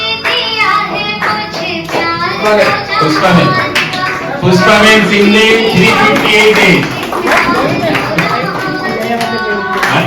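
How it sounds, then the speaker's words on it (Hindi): An audience claps through a birthday prize ceremony at Pathshala's 21st birthday, with dense, continuous applause running under a speaker announcing names over a microphone. "हाँ, तालियां बजती रहे"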